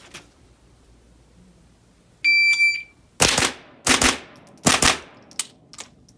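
At an IPSC-style shooting range, a shot timer gives a single electronic beep, followed after a short pause by three loud, close pistol shots spaced about a second apart, with a faint fourth report trailing off.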